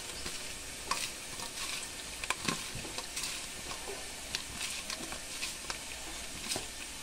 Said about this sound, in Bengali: মোরলা মাছে একটু হলুদ আর একটু লবণ দিয়ে ভালো করে মাখিয়ে তেলে ভেজে নেব মাছগুলো